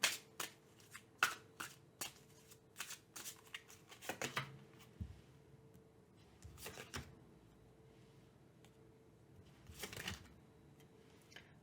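Tarot cards being shuffled to draw three more, close and soft, with rapid riffling flicks and taps in clustered bursts, alone.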